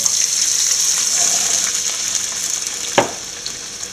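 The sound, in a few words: water poured into pan of sizzling sautéed vegetables and poha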